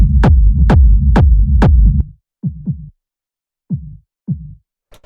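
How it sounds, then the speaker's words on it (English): A bandpass-filtered techno kick drum layer thumps in a quick, loud, even run, then thins to sparse pairs of softer, muffled hits separated by silence, with no voices. "And that's the same kick, but this one has a bandpass filter."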